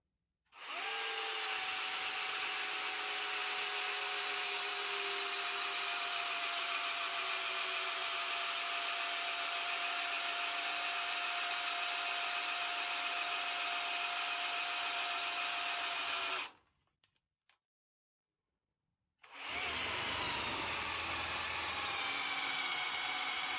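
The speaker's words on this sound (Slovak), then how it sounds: "Začíname teda vŕtať otvor o priemere 65 mm" A Metabo SB 18LTX BL QI cordless impact drill bores a 65 mm hole, a loud steady whine running for about sixteen seconds, then stopping briefly before starting up again.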